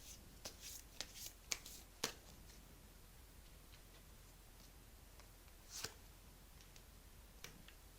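Tarot cards being shuffled and drawn at close range, quiet soft riffling with a few sharp snapping flicks, no talk.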